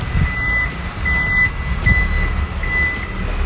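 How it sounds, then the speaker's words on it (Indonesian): A Toyota Alphard's power back door sounds its warning beeps, a repeated series of short, high electronic tones at a steady rhythm over a low vehicle rumble, close and clear. "dilengkapi dengan peringatan sensor warning, peringatannya dia bunyi kayak tadi titit gitu"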